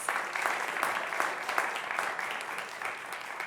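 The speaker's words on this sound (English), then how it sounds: "teams, give yourselves a round of applause" A round of applause for the quiz teams at a Black History Challenge competition between two high schools, steady and moderately loud, with a few sharper claps standing out from the crowd.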